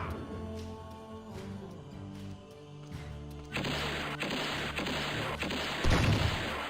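Thrown dynamite explodes in the video game Wanted: Dead or Alive. A sudden burst of blast noise and debris cuts in partway through, following a stretch of musical game tones, and ends with a deep boom.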